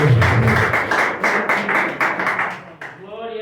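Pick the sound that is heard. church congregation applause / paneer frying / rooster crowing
church congregation applause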